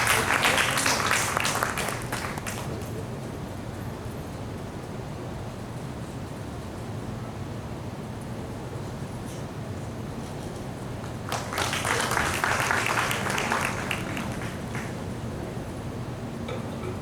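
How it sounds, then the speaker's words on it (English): An audience at an ICSSR-sponsored seminar claps for the guests in two bursts, one at the start and another later, with a steady hum of room noise between them. "A big round of applause for all our guests."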